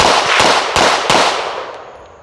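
A Springfield Kuna 9mm submachine gun fires outdoors: a loud, fast string of four sharp shots in quick succession, each cracking over a roaring echo that slowly fades.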